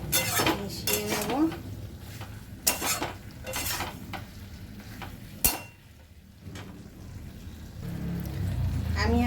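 A cooked vegetable curry of stalks, pumpkin and potato being stirred in a pot, with clanking spoon strikes against the metal and soft scraping, close and intermittent with quiet pauses.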